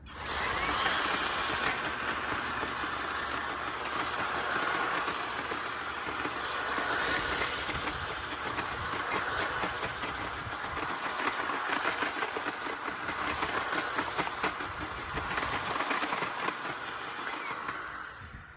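EGO CTA9500 electric cultivator digging into soil in a yard, a continuous motor whine with gritty churning and scraping of tines through dirt, close and steady throughout.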